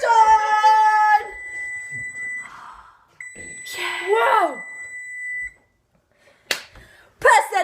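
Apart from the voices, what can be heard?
oven timer beeping after baking brownies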